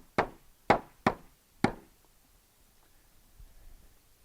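Four sharp knocks as the pegs of a roll-up chessboard square are tapped into their loops, close and distinct, the first three in quick succession and the last after a short pause, followed by faint rustling.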